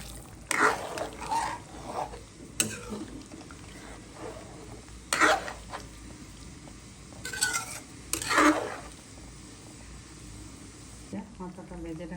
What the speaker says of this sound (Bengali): এখন জল দিয়ে দেবো, মাছ দিয়ে দেবো।